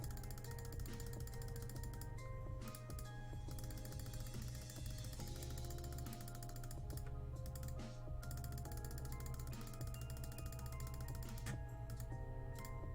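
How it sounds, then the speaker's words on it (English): Rapid computer mouse clicking while upgrading heroes in a mobile game, dense quick mechanical clicks in a steady stream, faint and close, mixed with bright game tones. "It's a lot of clicking."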